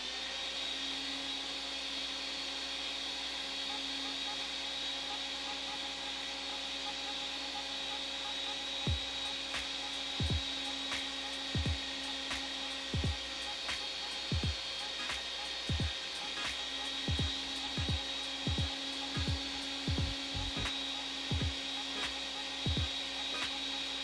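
A sausage stuffer pushes meat into an untied casing, a steady mechanical hum with a run of sharp, regular clicks and thumps joining partway through, close and moderately loud, with no talking.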